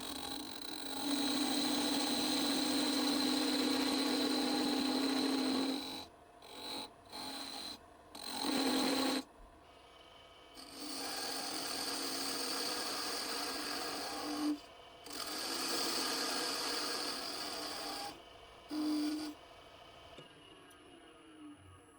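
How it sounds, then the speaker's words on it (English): A wood lathe turns a wooden tenon to its final length, its steady rasping scrape coming in several bursts separated by short pauses, fairly close and moderately loud. "Once we've reached the exact diameter of the tenon, we can start turning it to its final length."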